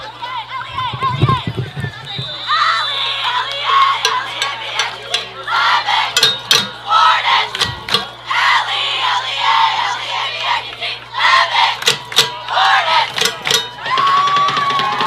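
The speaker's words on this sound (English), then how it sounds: "Can you get the crowd fired up?" High school football crowd at a Leavitt vs. York game cheers and yells, voices shouting in bursts with whistles and sharp knocks, rising and falling across the stands, fairly loud.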